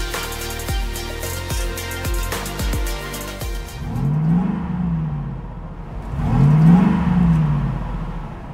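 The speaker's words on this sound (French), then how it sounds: "Vous avez entendu le son de ce V8?" A GMC Sierra pickup's V8 engine revs twice, swelling to a deep roar and easing off each time, after a few seconds of music-like tones at the start.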